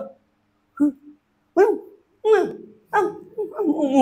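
A preacher's voice imitates a dog barking, giving several short, loud bark-like yelps in an uneven rhythm that run into speech toward the end.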